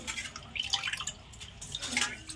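Small amudi fish being washed by hand in water for a Bengali fried-fish dish: close, soft splashing and dripping in irregular bursts, fairly quiet.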